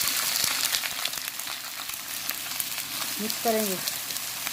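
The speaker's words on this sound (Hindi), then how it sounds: "ऑयल हमारा गर्म हो चुका है और अब हम इसमें प्याज ऐड करेंगे" Chopped onion frying in hot oil in a kadai gives a steady, close sizzle throughout, with a brief voice speaking over it near the end.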